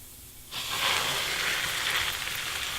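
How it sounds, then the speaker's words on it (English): A beef roast dropped into hot vegetable oil in a pan sets off a sudden loud sizzle that starts half a second in and holds as a steady crackling hiss. "I'm just gonna let that sit and brown for about 4 to 5 minutes on each side"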